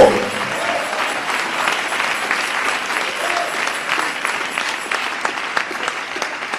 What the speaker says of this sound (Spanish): Ese aplauso de alabanza al Señor Jesús